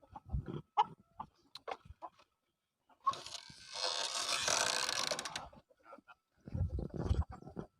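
Free-range village chickens cluck and squawk in a noisy burst at a farm, with a goose nearby, while people talk before and after.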